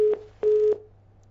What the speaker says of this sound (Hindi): चलिए फोन डिस्कनेक्ट हो गया है।